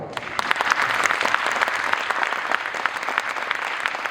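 An audience applauds a chenda melam drum troupe after their arangetram debut performance, a dense, steady wash of many hands clapping together at fairly close range, sustained throughout without any talk over it.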